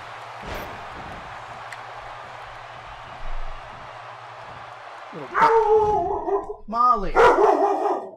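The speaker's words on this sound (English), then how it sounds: "Sorry, that's my dog." A startled dog barks and yelps in a room during a WWE 2K16 gameplay session, a few sharp close barks and whines coming in bursts near the end, loud over the faint game audio.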